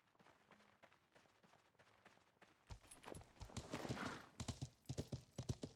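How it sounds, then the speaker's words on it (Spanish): Horse hooves clip-clopping in the medieval survival game Life is Feudal, a quiet irregular patter that grows louder and more rhythmic toward the end, like a horse breaking into a run. "Vamos a mover el caballo, chicos."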